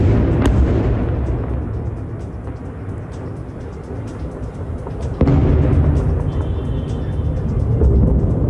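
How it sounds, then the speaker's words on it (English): Consecutive explosions at a site in eastern Tehran: two sharp, distant-sounding blasts, one early and one past the midpoint, the second followed by a louder sustained low rumble over steady background roar. "Several consecutive explosions took place at a site in eastern Tehran."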